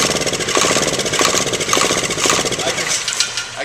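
A diesel engine clatters into life after glow plug warm-up and runs with a fast, rough, knocking rhythm, loud and close, easing slightly toward the end.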